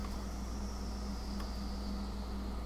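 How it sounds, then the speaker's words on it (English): Air conditioner running on high in a room, a steady low whirring hum with faint broadband hiss, continuous and even throughout with no other sounds. "The air conditioner is in fact on."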